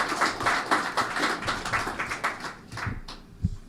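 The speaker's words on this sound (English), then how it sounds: "May we give him a round of applause" A few people clap for the Minister of Agriculture at a 2025 business conference for Liberia, the scattered claps fairly quiet and thinning out toward the end, with one louder thump near the close.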